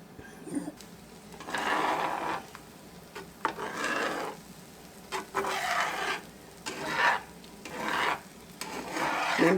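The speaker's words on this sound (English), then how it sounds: "Now I'll use my loud scraping spatula for this because I want to be sure I get it all up off the" A metal spatula scrapes Tex-Mex bacon fried rice off the bottom of a pan in repeated loud rasping strokes, with quieter gaps between them and a faint sizzle underneath.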